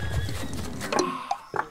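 Many horses in the strategy game Empires Apart, with dense overlapping hoofbeats and clip-clop alongside whinnies and neighs, loud and close throughout, followed by a few sharper distinct calls near the end.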